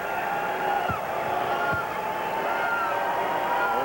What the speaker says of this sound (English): Michael Cage hears it from the crowd as he sits down